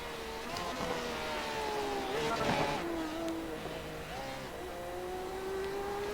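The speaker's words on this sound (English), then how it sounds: "you can hear the amazing cars that we have in the Simverse Sports Car Challenge" Race cars in the Simverse Sports Car Challenge sim racing game at Lime Rock whine past one after another, engines revving and shifting through gears in rising and falling pitches. The sound is faint and continuous, with commentary murmuring underneath.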